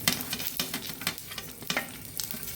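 Mustard seeds spluttering and crackling in hot oil for tempering a Karavali-style colocasia leaf dish, a dense, steady sizzle with rapid popping close by and no speech.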